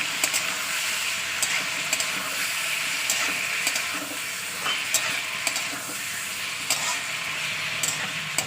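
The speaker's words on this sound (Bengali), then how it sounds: "মাংসটা দিয়ে ভালো করে নিয়ে তেলের মধ্যে নাড়াচাড়া করে নেবো।" Meat stirred and fried in hot oil, a continuous hissing sizzle broken by sharp spoon or spatula clicks against the pan at irregular intervals, close and fairly loud, no talking.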